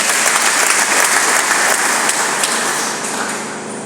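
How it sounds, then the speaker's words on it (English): A church congregation claps during a requiem Mass, loud and dense applause filling the space, sustained and then easing slightly toward the end. "and clap for her."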